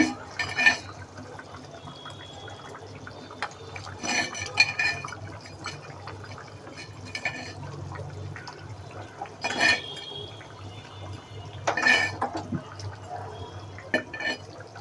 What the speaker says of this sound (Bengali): আলুটা সিদ্ধ হয়ে গেছে এখন মাছগুলি দিয়ে দিব